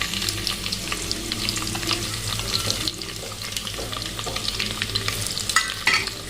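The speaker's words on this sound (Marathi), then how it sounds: "आता याच्यात आपण ठेचून घेतलेला लसूण टाकणार आहे" Crushed garlic fries in a pan of hot oil for spiced masale bhat rice, giving a steady close sizzle that runs throughout, with a few scraping stirs and light clinks near the end.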